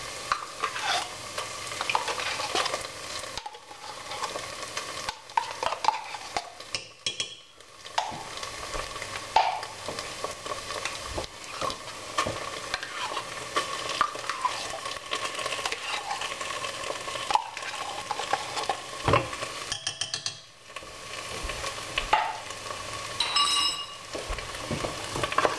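Tomato paste is stirred through in a hot pan for a beef and pork meatball pasta sauce, with a steady close sizzle and frying hiss, repeated scraping and stirring strokes, and brief pauses running continuously throughout.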